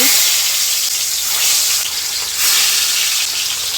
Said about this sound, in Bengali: এবার মাছগুলোকে ভেজে নেব। কড়াতে দিয়ে দিয়েছি তেল